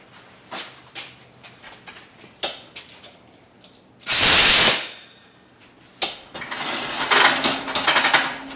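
Compressed air from a compressor nozzle filling a Foam Pro 12 foam sprayer comes as a loud, close burst of hissing air, surrounded by short clicks, taps and handling noises.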